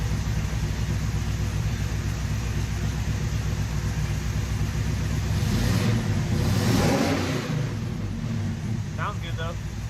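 A freshly built 383 stroker V8 in a 1972 Chevrolet Camaro runs at a steady rumbling idle, then climbs through a loud rev around the middle before settling back, close and continuous.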